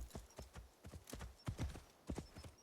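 A horse's hooves clip-clop in a quick, uneven rhythm as it climbs a mountain in Assassin's Creed Shadows, with crisp close impacts and faint background ambience.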